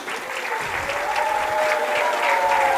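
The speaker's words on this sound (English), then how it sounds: "let's give a round of applause for our seniors" Audience at a high school basketball game applauding the seniors on senior night, a sustained round of clapping from a crowd in a gym, with a faint voice over a public address system underneath.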